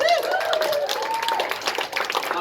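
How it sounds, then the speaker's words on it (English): Applause and clapping from an audience at an evening performance show, a steady wash of claps with a whistle or cheer rising over it early on, fading slightly toward the end. "Yeah, round of applause."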